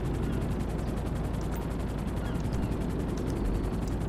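A helicopter in GTA V Online gives off a continuous rotor roar with a fast, steady chopping pulse, loud and unbroken, with no talk.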